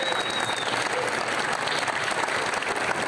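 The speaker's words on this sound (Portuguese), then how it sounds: "uma salva de palmas para o mestre Paulinho Sabiá aqui" Steady, dense applause fills a capoeira batizado and graduation ceremony as the crowd honors master Paulinho Sabiá, continuous and even throughout with no pauses.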